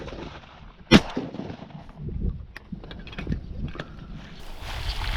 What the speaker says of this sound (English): Shooting it.